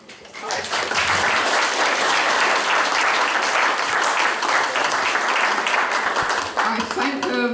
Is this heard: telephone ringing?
no